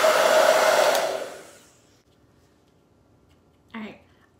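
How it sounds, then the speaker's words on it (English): A hair dryer blows loudly on a coat of red paint for about a second and a half, then switches off and winds down, with a short bit of speech following near the end. "I'm gonna dry this because I know it's gonna need another coat."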